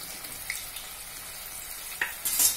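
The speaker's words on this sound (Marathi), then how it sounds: "त्यात आपण हे गोल मंचुरियन केलेले घालून तळूया" Round veg Manchurian balls deep-fry in hot oil, producing a steady low bubbling sizzle with a few sharper pops and a brighter crackling burst near the end.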